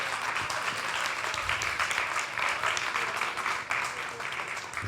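Congregation clapping during a church worship service, a steady, dense wash of applause that fills the space without pause from start to finish.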